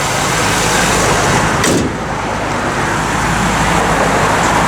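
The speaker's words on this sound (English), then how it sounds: "Here's a little rev" A 1962 Chevrolet Impala SS engine runs loud and close, a dense steady roar with a brief dip partway through, heard alone without talk.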